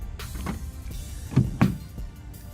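A 2008 Pontiac G8's door locks locking, heard as two quick, solid thunks in close succession over a low background hum, near and with no one speaking.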